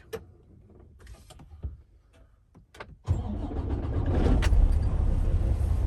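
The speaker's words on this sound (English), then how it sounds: "This time I'm going to do a safe start on the truck." A tractor-trailer truck engine cranks after a few quiet clicks and rustles from inside the cab, then catches and settles into a loud, steady idle rumble.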